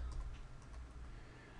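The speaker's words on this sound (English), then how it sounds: "So again, I go to search field and start typing invoice." Quiet keystrokes tap on a computer keyboard while a word is entered into a search field, faint, quick clicks sitting over a low steady hum.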